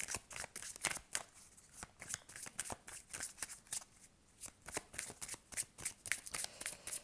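Tarot cards shuffled and dealt out by hand, a steady run of crisp riffling snaps and soft slaps, close and fairly quiet, with a brief pause partway through.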